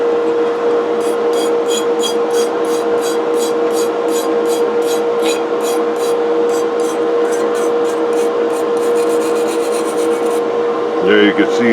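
An old Universal coffee grinder part being ground down, a steady loud abrasive rasp running continuously with a regular pulsing scrape, ending in a brief clatter near the close.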